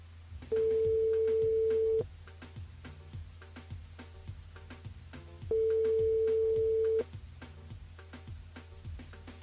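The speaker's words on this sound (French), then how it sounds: "On appelle Jessica du côté du sud tampon" A telephone rings out during a live radio call to a listener, two long steady ring tones about three seconds apart, loud and clear over a faint background.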